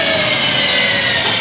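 An electric motorcycle motor, the LEMO HF1 scooter-style bike, whines steadily as it brakes with energy recovery, a loud, constant high-pitched electric hum without talk.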